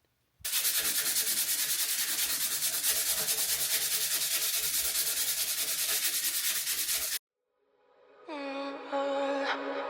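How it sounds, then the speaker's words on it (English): Loud, steady sanding of wood rasps continuously for several seconds, then stops abruptly; music starts up afterward. "But I'm going to start sanding."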